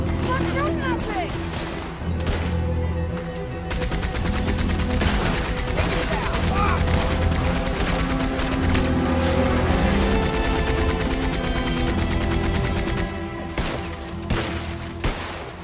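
Sustained heavy gunfire in Red Dead Redemption 2, with volleys of rifle and repeating shots layered over music and shouting voices, dense and loud for most of the stretch before easing near the end.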